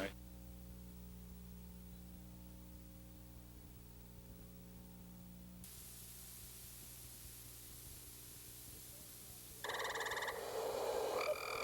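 Frogs croak in a short burst toward the end, faint and somewhat distant, preceded by a long stretch of low hum and static hiss.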